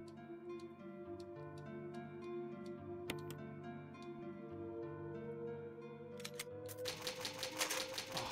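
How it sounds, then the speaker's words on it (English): Old typewriter keys clack in quick, uneven runs within Resident Evil HD, crisp and close over a sustained musical drone, with a rattling carriage-like flourish near the end. "Oh, I love the sound of old typewriters."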